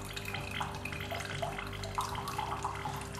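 Water gurgles and trickles steadily through a Bosch Tassimo coffee machine running a cleaning disc, a close, continuous splashing flow into a cup with small drips and bubbling.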